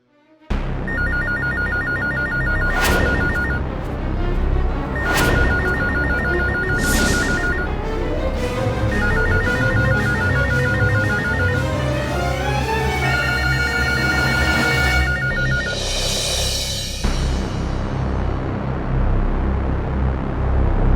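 A telephone bell rings in repeated bursts with short pauses between them, loud and close, over a steady background of music-like tones.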